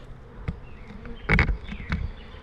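Honeybees buzzing close by at an 8-frame hive, a low continuous hum with brief louder knocks and rustles as the hive is slid backwards.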